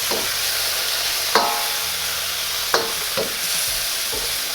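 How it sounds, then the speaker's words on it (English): Pork fries in a pan for Shanghai lo mein under a steady sizzle, with a few sharp scraping clacks of the utensil stirring it, close and without speech. "I'm gonna stir it up"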